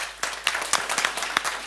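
Audience applause welcoming a guest at a Swedish panel on farm-shop wine sales, a steady close patter of many hands clapping throughout with brief louder claps.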